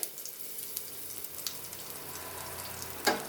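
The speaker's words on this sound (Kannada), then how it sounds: "ಇದು ಶುಂಠಿ ಬೆಳ್ಳುಳ್ಳಿ ಸ್ವಲ್ಪ ಫ್ರೈ ಆಗಬೇಕು" Crushed garlic and ginger frying over low heat in a pan for hotel-style dal, giving a soft, quiet sizzle with faint crackles and one louder utensil clack near the end.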